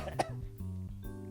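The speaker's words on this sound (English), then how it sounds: "Cough." A single short cough bursts out near the start, followed by a low voiced murmur.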